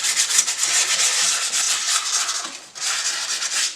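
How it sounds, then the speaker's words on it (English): Broken plastic being scuffed by hand with 120-grit sandpaper ahead of a fiberglass repair: a loud, close, continuous gritty rasping of steady back-and-forth strokes, a brief pause, then more sanding. "I'm going to sand it with 120 sandpaper and scuff it up"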